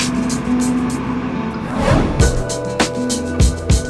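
Honda City facelift sedan on the move, a steady engine hum with road noise and a few thumps from bumps, recorded from inside the car.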